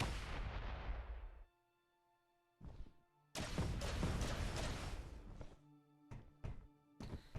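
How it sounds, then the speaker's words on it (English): Rocket launcher fire blasting a hole through a stone wall in Space Engineers, a series of loud booming impacts: one long blast fading out, then a short hit, a sustained roaring barrage, and several sharp bursts near the end. "press button 2 to fire or blast a hole in the stone wall so you can walk through"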